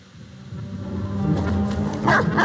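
A dog in the video game Watch Dogs 2 gives short barks and yips that grow louder toward the end, brief and fairly close over a low ambient hum.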